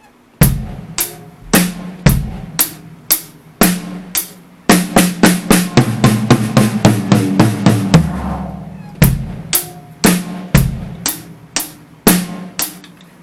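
A drum kit plays a steady rock beat, then a fill rolls across the snare and toms with rapid, dense hits before the groove returns; loud, close and punchy with crisp, regular attacks and no talking.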